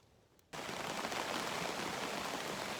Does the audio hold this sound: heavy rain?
yes